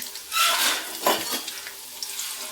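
Onions and curry leaves sizzle in hot oil, a close, soft crackling hiss with a couple of louder bursts as the pan is stirred, fading to a gentle steady fry.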